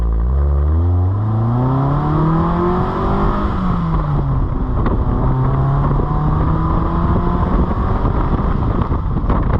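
A 1972 Fiat 124 Spider accelerating in third gear, its engine note rising steadily in pitch, easing briefly, then climbing again, heard loud from on board with wind rush and road noise.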